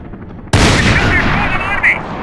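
Gunfire in the video game Max Payne 3 at hard difficulty, a sudden loud blast followed by a dense, continuous roar of shots and clatter that stays heavy to the end, with faint voices underneath.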